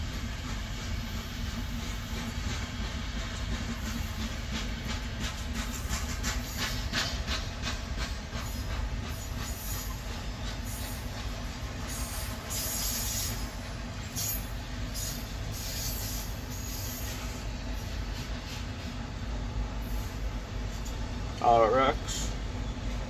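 Empty freight cars roll past in a steady, hollow rumble with rhythmic clanking from the wheels, and a brief squeal near the end.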